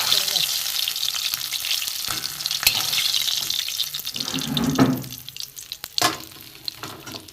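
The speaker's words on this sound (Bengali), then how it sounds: "দেখুন খুব কড়া করে মাছটা ভাজা" Katla fish pieces frying crisp in hot oil, a steady loud crackling sizzle with bursts of spattering, easing toward the end with a few sharper pops.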